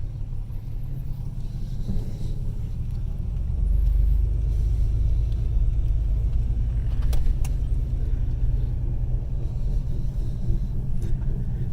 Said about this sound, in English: I have to wait for this car